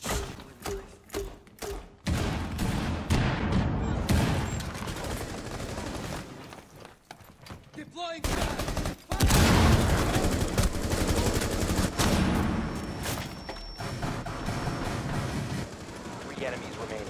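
Gunfire in the video game Rainbow 6 Siege: a few sharp single shots open, followed by long dense bursts of automatic fire mixed with thuds, loud and close.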